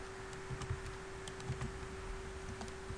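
Rapid light clicks from a computer keyboard as a MongoDB shell command is typed into an online terminal, soft and fairly faint over a steady low electrical hum, with irregular bursts of keystrokes.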